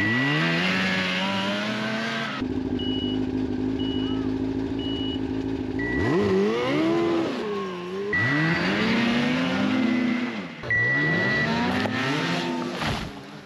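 200cc snowmobiles race on a snow track, their high-pitched engines rising and falling as they pass one after another, loud and close, with a steadier idling stretch early on and an announcer-like voice heard faintly.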